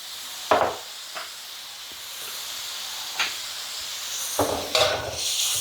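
Sun-dried pork stir-fries with fish sauce in a hot pan, giving a steady sizzling hiss broken by several sharp scrapes and clatters as the meat is tossed.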